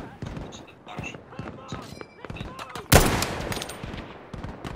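Gunfire in Battlefield 5 during a military simulation operation on the Hamada map: scattered shots and short bursts, then one loud close blast near the three-second mark, with voices talking around them.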